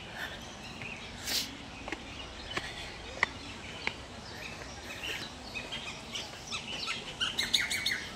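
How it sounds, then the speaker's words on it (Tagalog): Several birds chirp and call in scattered bursts, fairly close, over a soft outdoor background with occasional rustling steps. "Ayan. Naririnig mo na yung mga ibon."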